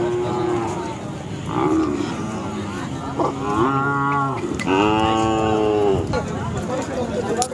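At a Khillar cattle market in Sangola, a cow gives several drawn-out moos, loud and close, spread across the stretch amid crowd murmur and nearby talk.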